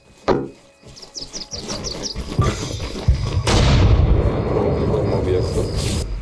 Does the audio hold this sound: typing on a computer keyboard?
no